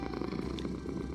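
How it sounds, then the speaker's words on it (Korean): A cat in a modded Minecraft-style game purrs softly in a low, steady rumbling flutter for about a second, quiet and with no talk over it. "이번 집은 오 고양이다"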